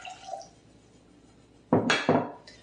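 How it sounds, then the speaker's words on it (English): Water being poured into German chocolate cake mix in a mixing bowl: a quiet lull, then two short splashy pours close by, with faint kitchen clinks before them. "So we're gonna add the 1 1/4 cups of water,"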